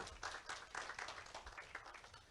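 A church congregation claps together during a sermon, a faint, uneven patter of applause heard from a distance, with no voices over it.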